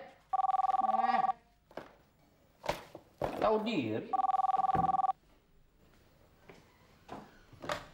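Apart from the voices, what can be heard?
telephone ringing at night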